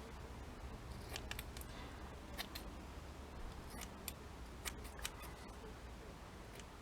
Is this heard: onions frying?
no